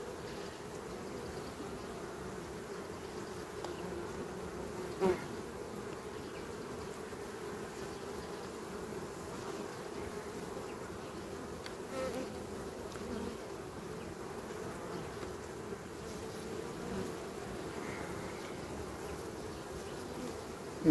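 Honey bees hum steadily around hive frames being prepared for winter, a low, continuous, close buzz with a few brief soft knocks and no voices.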